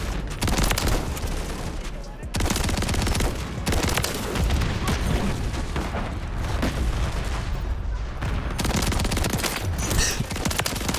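Rapid bursts of automatic gunfire from a Call of Duty: Modern Warfare III match, dense and loud with near-continuous rattling volleys and brief gaps, while a player talks over it.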